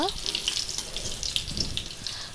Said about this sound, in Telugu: ఇప్పుడు బాగా ఫ్రై చేసుకోవాలి